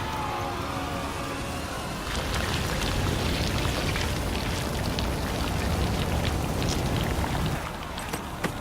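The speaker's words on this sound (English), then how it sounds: "Looks like rain." In The Witcher 3 video game, rain falls as a steady, dense hiss with scattered droplet patters, growing heavier after the first couple of seconds and holding until it eases near the end, with no talking.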